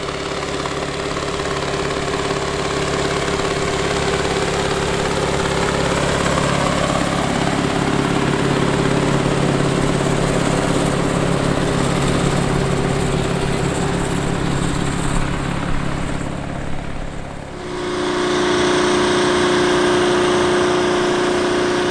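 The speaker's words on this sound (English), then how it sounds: "The tractor working in this video is operating a 45-foot wide John Deere 637 disc" A large diesel farm tractor engine drones steadily and loudly while pulling a 45-foot John Deere 637 disc, with a heavy low rumble; the tone shifts near the end as the load changes.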